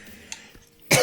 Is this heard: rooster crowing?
no